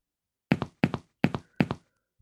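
Four video game footsteps in Unreal Engine 5, each a soft double thud, spaced evenly and close by against complete silence.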